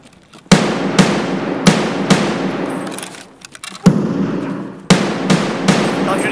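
Gunfire in the Escape from Tarkov video game: about eight sharp, loud shots in an irregular burst-like rhythm, close and dominant, with short gaps and a brief lull in the middle.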